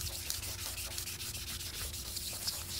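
Sandpaper rubs steadily back and forth across a Buell XB90SX motorcycle tank cover, a close, dry scratchy rasp with a regular stroking rhythm.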